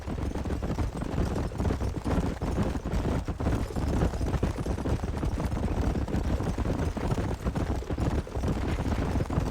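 Horses' hooves clip-clop across open ground in Red Dead Redemption, a steady dense trotting rhythm that runs throughout alongside game ambience, with no talk over it.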